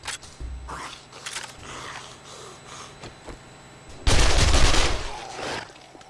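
SMG and M60 bursts in the zombie-horde game 7 Days to Die, sparse pops early, then a loud sustained volley of automatic fire for about a second before trailing off.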